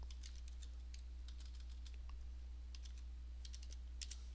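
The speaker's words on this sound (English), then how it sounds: "So I'll just type." Soft, quick keystrokes on a computer keyboard tap along in an uneven rhythm, faint and close over a low steady hum.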